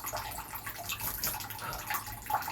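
Shower water runs steadily as a green cheek conure bathes, giving a soft, continuous hiss and splash with faint irregular droplet patter throughout.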